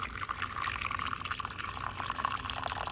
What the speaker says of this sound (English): Okay, I'm gonna turn this water on so we can fill up that little part there with water.